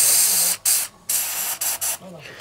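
Several bursts of hissing engine degreaser sprayed from an aerosol can into an old telephone, long and short, close by with brief pauses between them.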